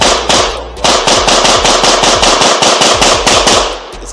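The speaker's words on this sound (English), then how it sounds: "A lot of people are having fun getting out and shooting in the range today" Guns fire at an outdoor range in Woodbury, a rapid, loud, close string of about sixteen sharp, evenly spaced cracks over four seconds.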